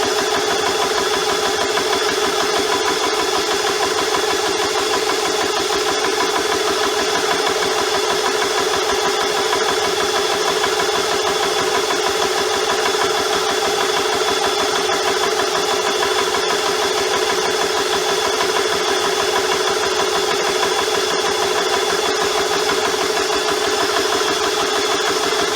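Air compressor for an AP 900 air rifle drones steadily and loudly with a constant mechanical hum and vibration, unchanging from start to finish with no voices.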